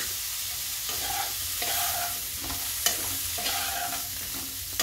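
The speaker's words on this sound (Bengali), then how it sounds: "ভালো করে আমি ভাজা করে নিচ্ছি।" Boiled green jackfruit seasoned with turmeric and salt sizzles in a pan while being stirred, with steady frying hiss broken by repeated scraping strokes of the spatula and a few sharp clinks.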